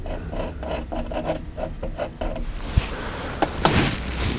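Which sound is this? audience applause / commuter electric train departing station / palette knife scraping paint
palette knife scraping paint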